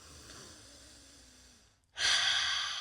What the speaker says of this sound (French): vous allez respirer une fois